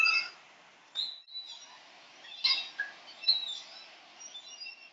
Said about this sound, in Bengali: মানে এত পাখি ডাকছে